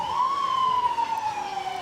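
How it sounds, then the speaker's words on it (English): An emergency vehicle siren wails during a university homecoming parade, one long, loud, slowly sliding tone that stays steady and close for the whole moment, with no talking. "There's those sirens."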